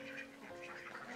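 Ducks quack on a small Kerala farm that also keeps cows and chickens, a close, steady chorus of nasal calls running through the whole short moment with no talking.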